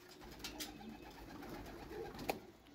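Army-breed pigeons cooing softly in a loft, a low, faint, throaty murmur running steadily through the short stretch with no voices over it.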